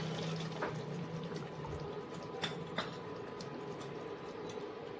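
Soaked mustard powder in water is poured into a prawn curry, a soft continuous trickle and splash with a few small drips, faint and close, with no talking.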